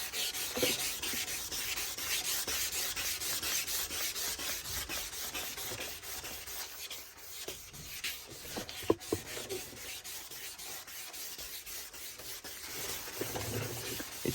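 Suzuki Swift headlight wet sanded by hand with 800-grit sandpaper, a faint, continuous scratchy rubbing with steady back-and-forth strokes, close up and without talk.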